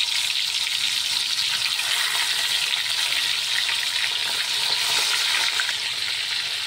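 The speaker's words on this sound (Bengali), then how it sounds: "তেলটা গরম হয়ে গেছে, এই মাছগুলো এক এক করে দিয়ে ভেজে নেব।" Koi fish frying in hot oil, a loud continuous hiss and crackle filling the whole stretch evenly, close and steady with no voices.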